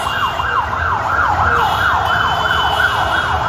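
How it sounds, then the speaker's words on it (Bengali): Wailing ambulance siren sweeping up and down in a steady repeating cycle, loud and continuous over road traffic rumble near a major fire beside a tower in Mohakhali, Dhaka. "কয়েকটি অ্যাম্বুলেন্স এখানে এনে রাখা হচ্ছে"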